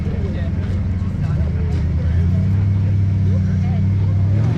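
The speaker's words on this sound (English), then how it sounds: "Max and Matty in this wicked V8 Hilux" A V8 Toyota Hilux rock crawler's engine drones steadily at low revs and rises slightly in pitch, rumbling continuously at a dragway rock crawling event, with faint crowd noise and talk beneath.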